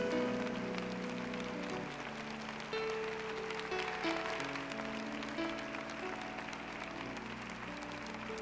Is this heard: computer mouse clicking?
no